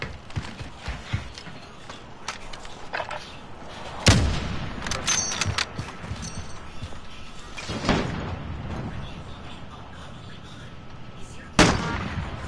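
Sniper rifle shots in a Call of Duty match, three sharp loud cracks spaced several seconds apart over a busy background of game sounds, footsteps and clatter, with faint talk.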